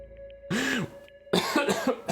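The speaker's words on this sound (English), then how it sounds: "Excuse me while I cough" Two bursts of coughing from a single person, close and fairly loud, with a short quiet gap between them and a faint steady tone running underneath.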